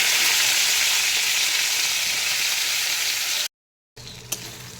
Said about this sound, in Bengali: এই যে বেগুন সুন্দরভাবে ভাজা হয়ে গেছে